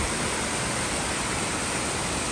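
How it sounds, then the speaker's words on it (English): A mountain waterfall on the Tour du Mont Blanc trail roars as an unbroken, even rush of falling water, loud and close with nothing else audible. "Nice waterfall."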